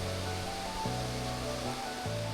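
A waterfall at La Cascada, a garden restaurant in Ruaka, makes a faint, continuous rushing wash of water. Some low, humming tones sit beneath it, and no one speaks.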